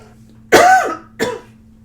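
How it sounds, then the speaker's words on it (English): Two sharp coughs close by, a longer harsh one followed by a shorter one, with quiet in between. "I got a cough, sorry."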